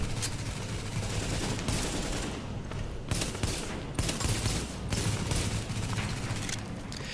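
Sustained bursts of gunfire from the video game The Division, including sniper rifle shots, fill the whole stretch as rapid overlapping volleys with heavy low rumble and sharp cracks, loud and continuous with no voice over it.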